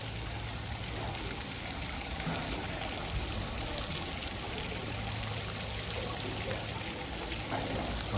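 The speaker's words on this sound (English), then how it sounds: "A little water feature in the street here." Constant splashing and trickling of a water feature in a street, a broad steady wash of flowing water with faint low hum underneath and no talk.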